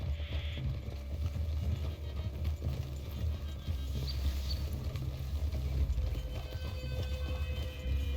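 Horses' hooves clip-clop along in Red Dead Redemption 2, a steady, moderately close walking rhythm over low ambient rumble with no talk.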